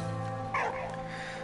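A dog in the video game Valiant Hearts gives a single short yip over steady game background music.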